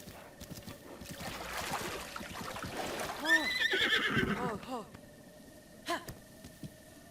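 A horse neighs and whinnies in The Legend of Zelda: Breath of the Wild, a wavering cry in the middle of steady game ambience, with a voice faintly audible around it.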